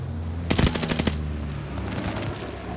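A rapid burst of automatic gunfire rings out in the Call of Duty Vanguard video game, sharp and loud at first, then trailing into fainter, distant shots.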